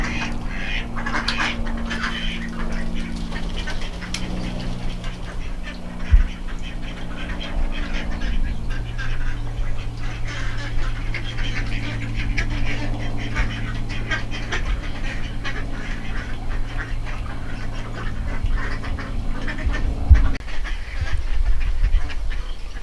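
Mallard ducks quacking outdoors, a steady run of close, raspy quacks and chatter lasting throughout, with a low rumble underneath and a couple of brief thumps.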